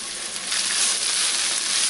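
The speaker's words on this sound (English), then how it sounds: "Turn the heat up briefly to fry that all together." Chopped chicken pieces fry with sauce in a hot pan, giving a loud, continuous, bright sizzle that swells slightly partway through.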